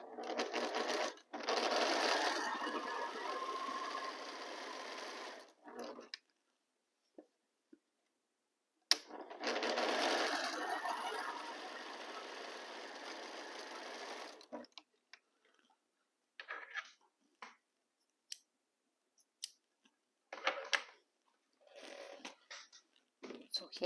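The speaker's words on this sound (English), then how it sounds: "now it's time to start sewing all of them" A sewing machine stitches light and dark fabric pieces together in two long whirring bursts, followed by short stop-start runs and small clicks.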